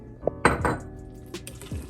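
A spoon clinks and scrapes against a crockpot as barbecue sauce is stirred into pulled pork, giving a few sharp knocks followed by softer wet scraping, close and moderately loud with no talking.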